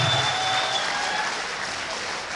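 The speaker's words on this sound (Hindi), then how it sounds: "वहाँ से आपको ये करना है कि भरपूर तालियां बजा देनी है" An audience at a mushaira poetry gathering in Gorakhpur applauds, a dense wash of clapping that holds steady and then tapers slightly.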